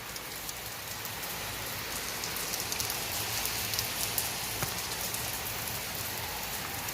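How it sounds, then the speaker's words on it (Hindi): Heavy night rain pours steadily onto a floor and surfaces, a dense, even hiss of drops with no pauses. "ये देखिए बारिश ही बारिश।"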